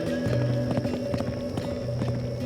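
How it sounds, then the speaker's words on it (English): Rhythmic hoofbeats of a horse galloping off toward a plateau, loud and close, with a steady drumming pattern over a tonal background. "She kicks her horse and shoots off toward the plateau."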